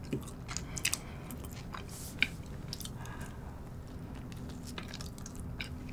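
Custard cream steamed bun being bitten and chewed close to the mic: soft, moist squishy mastication with a few small clicks and one sharper bite near the middle, steady and continuous with no talking.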